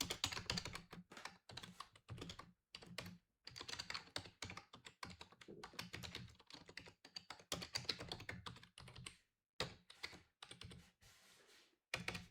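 Rapid clicking of a computer keyboard while code is typed, close and clear, in quick bursts with brief pauses between words and lines.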